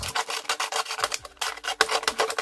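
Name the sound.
rubbing to distress paper edges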